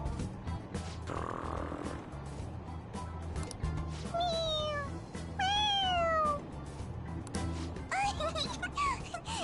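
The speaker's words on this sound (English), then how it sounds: "It meows when you press on its head." In Persona 5 Royal, a stuffed toy cat meows twice when pressed, both meows clear and sliding downward in pitch. A third, shorter meow comes near the end, with game background sounds and some low snore-like noise underneath.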